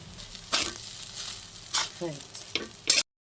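A spatula scrapes and stirs mixed fried rice with ghee in a hot pan, several distinct bursts of scraping and sizzling separated by brief quieter gaps, close and clear.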